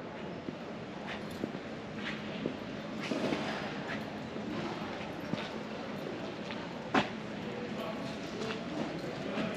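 Hooves clip-clop on a city street as horses wearing golden horns walk past, moderately distant, with a steady irregular rhythm mixed into outdoor ambience and scattered crowd noise.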